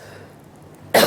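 A single sharp cough bursts out suddenly after a near-silent stretch, loud and close, ending the short moment.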